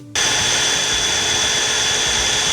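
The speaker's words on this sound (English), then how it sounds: "I went and grabbed my drill, got a drill bit, and I am just going to drill a hole" A power drill bores a hole into a 2x4 wood piece: a loud, steady motor whir starts abruptly and runs continuously at close range, with no talking.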